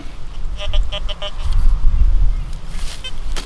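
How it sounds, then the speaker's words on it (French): A metal detector sweeping a meadow gives a faint, high-pitched signal, a short run of rapid pulsing beeps over steady low rumble and handling noise. "Vous entendez, on a un tout petit aigu"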